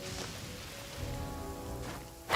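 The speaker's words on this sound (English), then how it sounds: "Oh no, it's raining!" Steady rain falls in the Genshin Impact video game, a continuous soft patter that runs the whole time, with light game music tones layered over it and a brief louder splash near the end.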